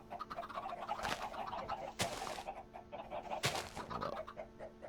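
Chickens clucking in a chicken farm inside a survival video game, a steady run of short clucks with a few louder squawks over a constant background hum.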